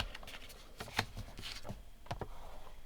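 Card stock being folded for a joy fold card, a series of soft crisp paper creases and taps close by, with scattered brief rustles and no talking.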